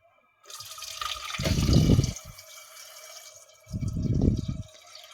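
Water poured into a pot of boiled butter mushrooms during marinating, two loud pouring bursts with splashing and a trickle between them, close and with no talk.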